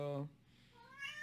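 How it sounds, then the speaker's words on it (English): A single drawn-out cat meow, close and fairly loud, followed by a quieter rising mew about a second later. "That was my cat, Todd."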